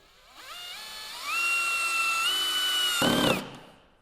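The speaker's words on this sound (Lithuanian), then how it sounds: "Mes įsukame varžtus visada garantuotai." A Festool drill driver with a depth-stop attachment whines up through rising pitch steps while driving a screw, holds a steady high tone, then gives a brief ratcheting clutch burst as the depth stop engages and spins down.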